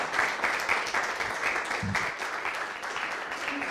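Audience applause after a student project presentation, moderate steady clapping from a small room, with a brief voice breaking through partway.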